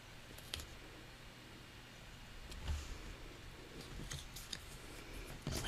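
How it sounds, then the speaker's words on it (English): Several crisp scissor snips cut through excess edging material, scattered irregularly over quiet background noise. "take my scissors and cut off the excess"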